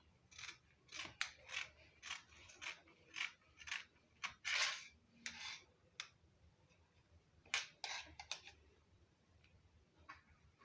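Scissors snip through fabric cut for the back panel of a kaftan abaya, giving a steady run of crisp, close clicks and slices, some paired closely, with short pauses in between and no talking.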